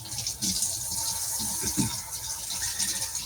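Warm water pours for frybread dough, a soft steady gush of liquid with faint background clatter and hiss, moderately quiet throughout.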